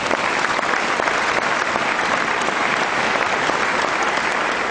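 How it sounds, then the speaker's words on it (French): A church congregation bursts into sustained applause to acclaim the Lord, a dense, steady wash of clapping from many hands that holds at full strength throughout, close and loud with no pauses. "Et quelqu'un acclame le Seigneur"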